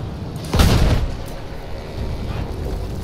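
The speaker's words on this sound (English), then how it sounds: "There's a field gun!" Artillery fire from a field gun in the World War I shooter Battlefield 1: a single heavy, booming blast lands early and fades into a low rumble over steady background battle noise.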